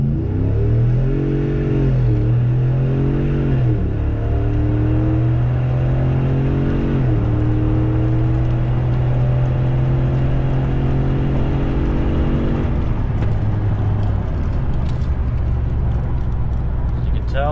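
A 2016 RAM 1500 pickup's 5.7-litre engine revs hard through several rising gear pulls from a standstill, each climb dropping briefly before building again, loud and continuous throughout.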